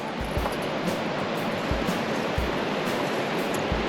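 Brushkana Creek along the Denali Highway rushes loudly, a steady roaring hiss of water with occasional low thumps, heard close and continuous throughout.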